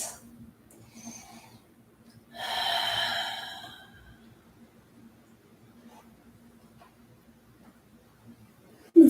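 Slow, audible breaths during a live yoga class, with a soft sniff early on and one long, airy exhale in the middle, all over a faint low hum and near silence, ending in a brief loud bump.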